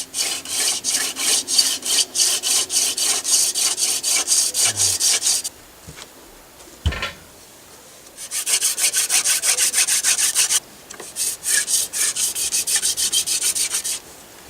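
A primitive wooden hand drill spindle is spun between the palms against a wooden hearth board to make a friction fire, giving bursts of rapid dry rubbing and scraping, close and loud, broken by short pauses.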